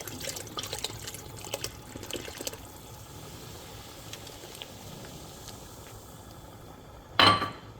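Two beers poured into a pot of chili on the stove: a soft, faint liquid trickle at first, then quiet, then a brief louder splash near the end, with no talking.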